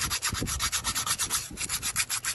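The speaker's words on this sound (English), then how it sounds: "I like to kind of run some sandpaper over it" Sandpaper scrubbed back and forth over a 2014 Dodge Ram 1500 5.7L thermostat housing, about a dozen quick, steady rasping strokes close up with no talking.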